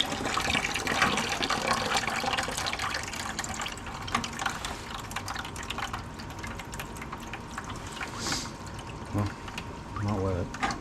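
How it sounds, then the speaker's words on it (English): Water draining from an opened boiler drain into a bucket during a circulation pump change, a continuous trickling gush under a background hum, with faint talk present. "Let's just stick the bucket in there and open up the boiler drain."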